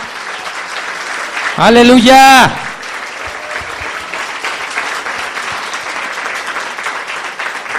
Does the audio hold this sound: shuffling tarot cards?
no